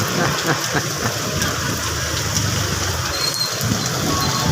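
Heavy rain pours in a dense, constant roar, loud and unbroken throughout.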